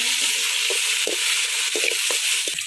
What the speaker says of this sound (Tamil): வெங்காயம் கொஞ்சம் போட்டுக்கலாங்க.